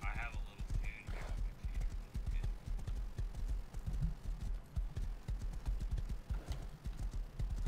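Horse hooves clip-clop steadily in a video game, a fast rhythmic pattern of close, loud thuds throughout, with a voice talking faintly at times.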